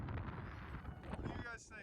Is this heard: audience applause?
no